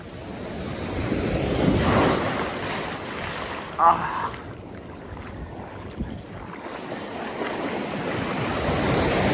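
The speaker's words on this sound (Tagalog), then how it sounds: "Ayan, ito po. Itong alon na to yung pabalik." Strong ocean surf rushes and drags back over a stony shore in a continuous roar, with wind buffeting the microphone throughout.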